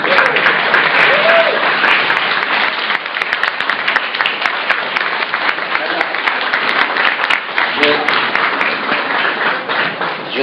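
Wedding guests break into loud, sustained applause that fills the room for about ten seconds, with a few voices calling out over the dense clapping.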